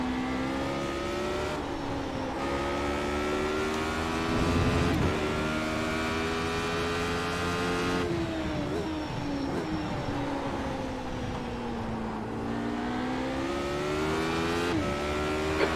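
A Radical race car engine screams around Spa Francorchamps in a racing video game, revving high and climbing steadily, with abrupt pitch drops at each upshift roughly every few seconds, loud and alone.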